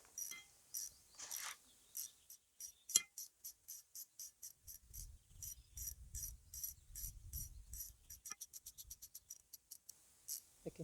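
Laser 6058 tap socket on a ratchet chasing rusty threads: a long run of crisp, evenly spaced ratchet clicks, close and fairly loud, with a low scraping rumble from the cutting in the middle stretch.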